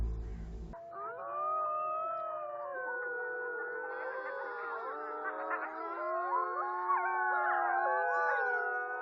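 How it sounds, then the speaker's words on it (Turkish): Several Anatolian wolves howl together in overlapping, wavering tones that rise and fall, a sustained chorus heard clearly at moderate distance at night. "Ulumak, kurtlar için bir iletişim yöntemi."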